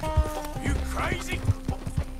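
Hooves clip-clop in a steady rhythm while a horse whinnies loudly in the video game Red Dead Redemption 2, with voices talking over the sounds.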